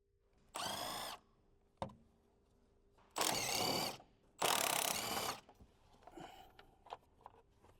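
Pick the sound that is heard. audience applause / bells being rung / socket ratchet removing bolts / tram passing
socket ratchet removing bolts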